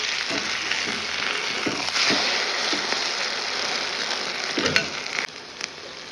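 Egg frying with onion in a home pan gives a loud, continuous sizzle with crackling spatters, a few stirring scrapes, and a brief drop in intensity near the end.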